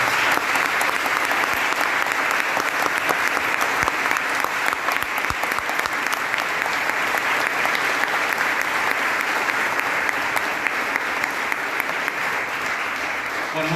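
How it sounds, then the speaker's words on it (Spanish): Sustained, full applause in a hall for senators at a commemoration of the detained and disappeared at Sala Zitarrosa, a thick steady wash of many hands clapping that barely fades. "Les pido nuevamente un aplauso para nuestros senadores."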